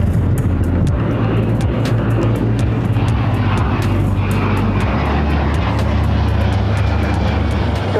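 A Boeing 767 jet airliner departing a parallel runway at LAX makes a loud, continuous engine roar with a deep low rumble and steady broadband noise throughout, close and unbroken, with no talk.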